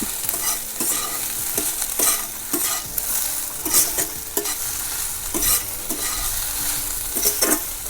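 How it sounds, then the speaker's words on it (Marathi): Salted wild leafy vegetables sizzle steadily in a hot pan while a spoon stirs them, with repeated scraping strokes and soft clacks over continuous frying noise. "चांगली अशा हलवून घेते"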